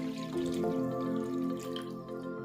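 Water being poured into a kadhai while cooking dhokli salan, a short close trickling and splashing of liquid against metal, heard alone without talk.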